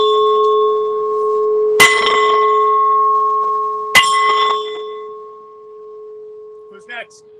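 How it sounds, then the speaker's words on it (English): Hand bell tolled at a rally against the death penalty: two loud, ringing strikes about two seconds apart, each decaying into a long sustained metallic hum with bright overtones, over quiet background. "I'm tolling this bell in memory of Samuel Felipen, who was executed on August 18th of 2006."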